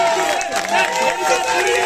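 A crowd at an event claps and cheers continuously, dense and steady throughout, with voices mixed into the applause.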